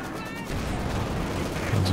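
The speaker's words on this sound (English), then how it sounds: "Panzer IV taking some shots from the Zis" Gunfire from a Soviet ZiS field gun hitting a German Panzer IV tank in Company of Heroes 2 during a 2v2 match, dense battle noise with rumbling impacts, swelling louder near the end.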